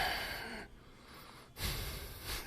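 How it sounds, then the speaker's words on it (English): A man breathes hard straight into a microphone, two loud rushing breaths close to the mic separated by a brief pause. "Why is he breathing into the mic that hard"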